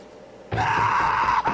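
Scream from the Corpse Party horror game, a sudden loud sustained wailing cry after near silence, lasting about a second with a short break near its end.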